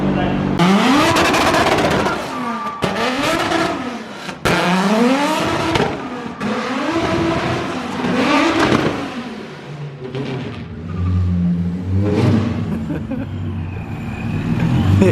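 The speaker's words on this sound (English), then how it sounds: "This shit is the loudest car ever, bro." A turbocharged BMW E46 M3 roaring on a dyno, the engine rising and falling through loud, harsh revs with sweeping pitch changes and brief cuts between pulls, very close and dominating.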